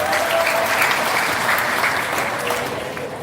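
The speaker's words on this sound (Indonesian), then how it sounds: "Tepuk tangan buat Anda semua di sini." Audience of new university students at a campus talk applauds steadily, a dense, continuous clapping that holds loud for several seconds before easing slightly at the end, with no voices over it.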